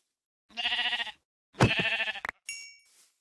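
Sheep in the video game Minecraft bleat twice in quick succession, clear and close, followed by a short chime-like game sound.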